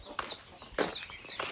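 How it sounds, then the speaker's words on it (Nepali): A rooster gives three short, fairly faint calls in quick succession, each a rising-then-falling squawk, against quiet background. "यो भाले हेर्नुहोस् न"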